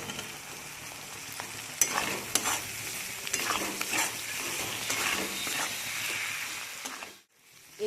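Tomatoes fry in a pan of spiced masala and are stirred steadily, with a continuous close sizzle broken by repeated scraping strokes, then a brief pause near the end.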